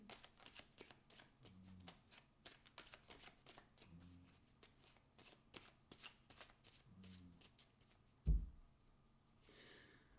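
Cartomancy cards shuffled by hand in repeated quick riffles and flicks, soft and close, with brief pauses between bursts and no talk.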